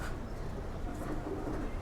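Soft, low pigeon cooing rolls on steadily nearby for a couple of seconds, faint and alone without talk.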